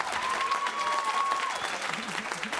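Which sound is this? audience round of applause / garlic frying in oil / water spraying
audience round of applause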